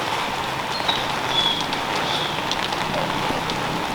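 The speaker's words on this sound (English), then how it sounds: "It's still raining." Steady rain falls outside a work shed, a dense even hiss of drops on surfaces, fairly loud and constant with no voices.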